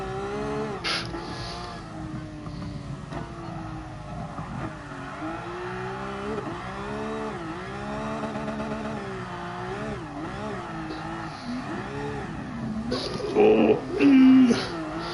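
A car drifts around the Nordschleife in GT Sport, held in fourth gear, its engine rising and falling in pitch with wavering revs and tire noise, someone talking throughout and a brief loud burst near the end.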